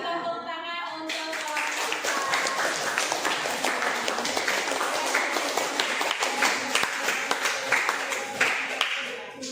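A classroom audience claps after a class presentation, a dense, steady round of applause lasting several seconds with a few voices mixed in.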